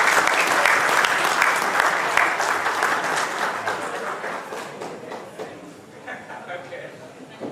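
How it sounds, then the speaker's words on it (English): Banquet audience at a sports hall of fame dinner applauding steadily, a dense wash of many hands clapping that slowly thins and tapers off over several seconds. "So let's give Jake a clap back there"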